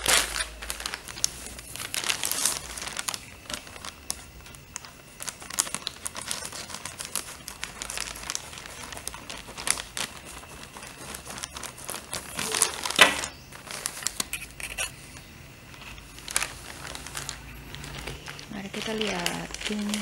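A plastic-wrapped online clothing parcel from Pomelo being opened, with close, steady crinkling and crumpling of plastic packaging running throughout, plus a few louder rustling bursts and sharper tearing.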